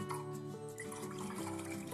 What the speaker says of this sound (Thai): แล้วก็ตามด้วยน้ำเปล่านะคะ อีก 500มิลลิค่ะ